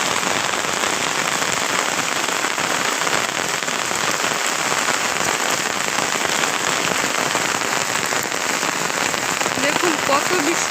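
A downpour of heavy rain drums on surfaces nearby, a loud unbroken wash of dense drops that holds steady from start to finish.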